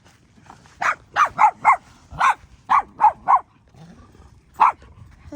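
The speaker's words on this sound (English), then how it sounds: "That's a 200-pound dog right there." A very large dog, around 200 pounds, barks about ten times in loud, close bursts, mostly grouped in quick runs with short pauses between.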